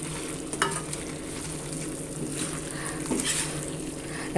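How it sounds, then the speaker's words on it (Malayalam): Onions stirred into a sizzling pan of chicken chukka, a steady close frying hiss with soft scraping strokes of a spoon running throughout. "സവാള ഇട്ട് കൊടുക്കാം നന്നായിട്ട് മിക്സ് ചെയ്ത് ഇളക്കി ഇളക്കി അതിലേക്ക് യോജിപ്പിച്ചെടുക്കാം"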